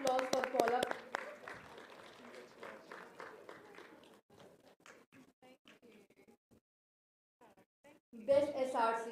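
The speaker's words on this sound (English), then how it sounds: "A huge round of applause for Paula." Applause from an audience at a graduation ceremony honoring a student, a dense burst of clapping at the start that fades into scattered claps and murmurs, then swells again briefly near the end.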